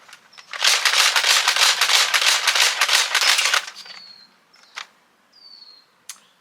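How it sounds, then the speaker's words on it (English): Nerf Elite 2.0 Eaglepoint blaster slam-firing Elite darts with its barrel attached, a rapid burst of sharp clicking shots for about three seconds, then a few scattered isolated clacks and thuds. "So I'm just going to Slam Fire with barrel on"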